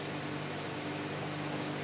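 A microwave oven runs beside a laptop during a 2.4 GHz interference test, giving a steady, low, even hum with a faint airy fan noise, unchanging throughout.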